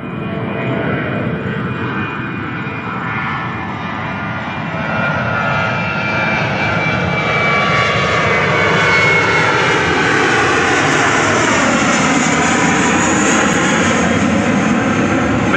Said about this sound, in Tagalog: Ay, aeroplano naman.